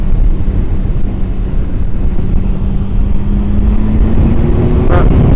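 A 2008 Triumph Sprint ST1050 motorcycle being ridden on the road, its engine drone rising steadily in pitch beneath heavy, constant wind buffeting at the microphone.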